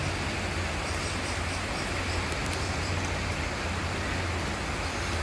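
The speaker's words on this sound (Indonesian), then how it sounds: "Hujan turun lagi." Steady rain falls continuously and evenly, a broad hiss at moderate level with a faint low hum underneath and no voices.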